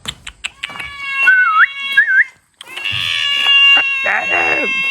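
A domestic cat meows repeatedly, in clear drawn-out calls with rising and falling pitch, close and loud; a brief pause comes midway before further insistent meowing, with some faint background sounds.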